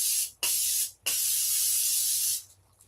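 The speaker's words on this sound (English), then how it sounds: "spray my face again." Makeup setting spray is misted onto a face in three quick, bright hissing bursts, separated by brief pauses, with the last one fading out.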